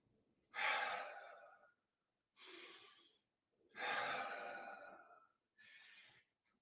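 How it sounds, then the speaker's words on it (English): Deep, controlled breathing during a breathing exercise: four close breaths, two long and two shorter, with silence between them. "Remember, how I teach you to control your breathing. You breathe in,"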